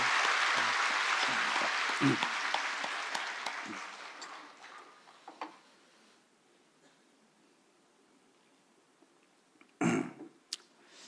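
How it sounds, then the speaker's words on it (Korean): Church congregation applauding during a Sunday worship service, a full burst of clapping that fades out over several seconds and leaves a quiet room with a few thuds and rustles. "우리 박수로 한번 환영합니다."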